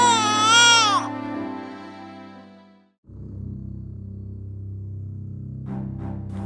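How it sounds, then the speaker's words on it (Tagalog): An infant wails in a rising, wavering cry for about a second, then gives way to a low sustained drone and a dull rumble, with the crying not returning. "Narinig ko ang iyak ng sanggol."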